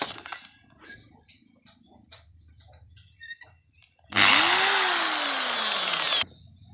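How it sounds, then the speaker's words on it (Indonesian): Power drill boring holes in a motorcycle clutch plate for a Supra X 125: one loud, sustained whining burst of about two seconds, winding down at the end, among quieter handling noises. "Oke, udah saya lubangi semua."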